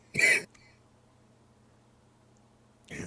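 A single short, harsh cough or throat-clear bursts out near the mic, followed by quiet room hum and a second brief rasp at the end.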